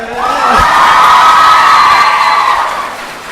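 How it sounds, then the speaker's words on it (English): A live audience at a New York show erupts in loud cheering and whooping, a crowd of high voices swelling together, rising and holding before fading slightly. "And cue applause."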